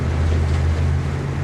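A boat motors into a bay in Alaska, a steady low engine drone close by with wind and water noise washing over it, no voices.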